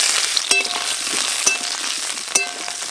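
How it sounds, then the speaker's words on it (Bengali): Potatoes frying in well-heated oil give a close, continuous sizzle, with a few sharp crackles and spits popping out over the steady bubbling. "লাল লাল করে আলুগুলো ভেজে নেব।"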